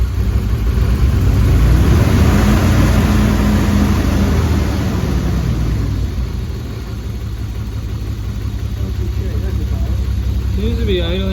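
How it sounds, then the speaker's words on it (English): A Toyota Supra engine rumbles loudly and steadily nearby after an ignition timing fix, swelling briefly at first and then settling into an even idle. "Seems to be idling pretty good now that we've fixed the timing though"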